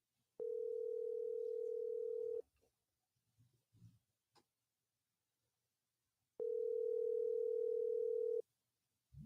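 A telephone line tone sounds during a radio call-in show, two steady two-second beeps separated by a pause with faint clicks and rustles between them.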